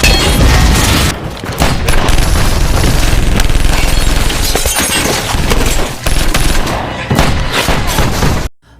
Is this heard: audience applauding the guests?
no